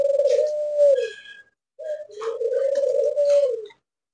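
A large pet parakeet bought from a market gives drawn-out tonal calls while being handled, two long clear notes with a short pause between them, close and alone.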